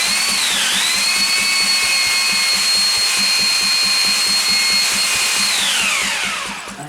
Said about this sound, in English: I've got to watch the drill